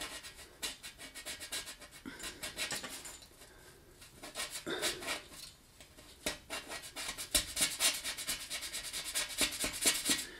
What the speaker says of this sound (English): You scrape the paint off the top, but that residual is still there.